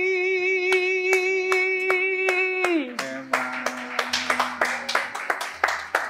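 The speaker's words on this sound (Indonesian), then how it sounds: "Ini tepuk tangan live-nya banyak ini soalnya" Live audience in a busy cafe claps hands in steady rhythm along with a song, sharp repeated claps over sung melody and instruments, growing denser toward the end.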